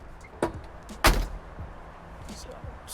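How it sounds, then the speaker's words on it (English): A car door on a 1965 Buick Riviera Grand Sport shuts with one solid, close thump, preceded by a softer knock, and followed by quiet room tone. "When you close the door, listen to it."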